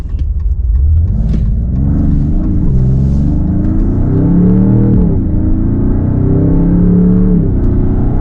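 A 2026 Dodge Charger R/T sedan's twin-turbo inline-six drones loudly and steadily from inside the cabin, its pitch rising and falling smoothly as the 8-speed automatic shifts on the road.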